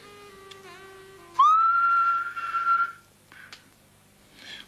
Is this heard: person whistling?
yes